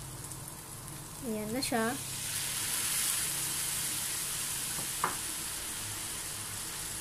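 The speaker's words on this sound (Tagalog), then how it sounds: "ilalagay po natin ngayon ang ating sauce na ating ginawa kanina" Sauce poured into stir-frying kangkong leaves bursts into a loud sizzle that settles into a steady hiss, with a brief voice speaking near the start.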